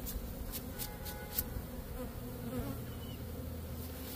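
Honey bees buzz steadily around an open hive during queen rearing, a dense continuous drone of many insects close by, with no voices over it.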